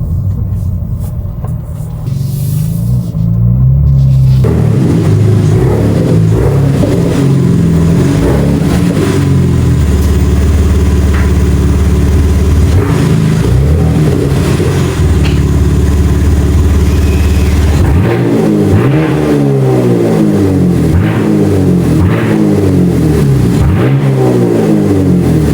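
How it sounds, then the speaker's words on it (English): A BMW G87 M2 fitted with an AWE Track Edition exhaust system sits close by, its engine revving hard over and over, deep and loud throughout with rising and falling throttle blips in the second half. "installs complete on the G87 M2 with the AWE Track Edition exhaust system. It sounds amazing"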